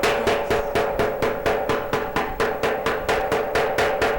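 A hammer strikes a metal pot in steady, rapid, evenly spaced blows, each a loud ringing metallic clang close by, around fourteen hits with no speech.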